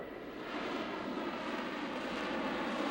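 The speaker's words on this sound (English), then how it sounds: "The most unique thing about the Harrier is that it has the ability to hover" A loud, steady jet roar from an AV-8B Harrier II hovering at a 1997 air show, swelling slightly after the start and holding constant without talk.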